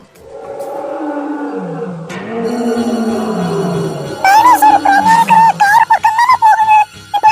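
A deep, drawn-out monster roar rumbles and swells, then gives way to a high, wavering shrieking call near the end.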